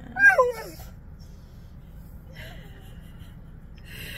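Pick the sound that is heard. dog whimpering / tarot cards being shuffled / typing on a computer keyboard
dog whimpering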